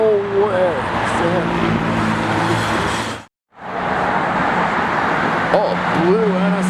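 Honda NSX car passing on a street, engine note rising and falling close by, heard under people talking, with a brief dropout partway through.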